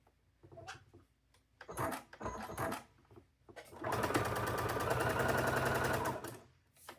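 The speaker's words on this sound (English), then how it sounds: "We're going to sew." A domestic sewing machine stitches a seam on a chicken-themed quilt block, running steadily for about two and a half seconds after some brief handling clatter and short bursts, loud and close with no talk.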